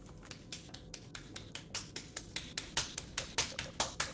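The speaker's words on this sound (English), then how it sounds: "Yeah, clap for him." A small group applauds during a Star Wars roleplay training session in Garry's Mod, heard as a run of light, crisp claps or taps at a steady rhythm that grows slightly denser and louder toward the end, with no talk over them.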